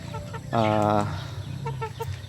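A loud drawn-out fowl call with rich harmonics, then softer clucking chirps from nearby poultry.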